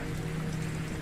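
Steady rain falls on a surface as an even, continuous patter with a low hum beneath it and no voices.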